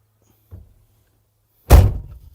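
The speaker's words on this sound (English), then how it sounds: "Okay, and then that same door will lock right on the inside there." The cab door of a Komatsu PC210 excavator swings shut with a faint click and then a loud, solid slam and latch thud, heard close up in a quiet cab.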